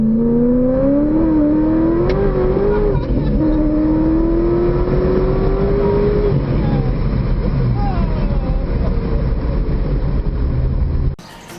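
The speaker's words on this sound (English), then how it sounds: "Here's a clip of it running with Grandma in the passenger seat." The 700+hp 2001 Corvette engine runs steadily and loudly throughout, with a rising then steady pitch as it revs and holds, ending in an abrupt cut.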